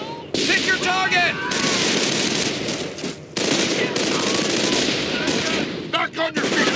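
Sustained machine-gun fire rattles through a Company of Heroes: Tales of Valor battle at Causeway, loud, dense bursts running almost without a break, with soldiers' voices shouting in between.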